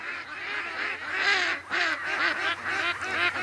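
Several ducks on a lake call close by in repeated, overlapping honking quacks, loud and continuous.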